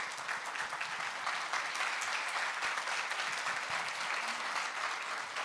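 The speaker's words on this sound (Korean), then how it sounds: "박수 한번 부탁합니다" Applause from a church revival congregation, dense steady clapping that fills the room and holds at an even level throughout without pause.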